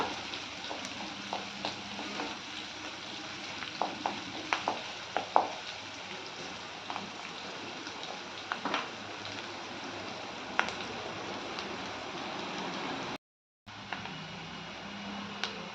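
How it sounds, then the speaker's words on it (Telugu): Onions sizzle in a pan on the stove while they brown for a garlic and bitter gourd dish. The frying holds a steady, fairly quiet hiss with scattered crackles and pops, then cuts out to a brief silence near the end. "ఉల్లిపాయ కొంచెం బాగా వేగుతుంది కదండి, పింక్ కలర్లోకి మారింది."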